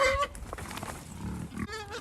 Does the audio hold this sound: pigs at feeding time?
yes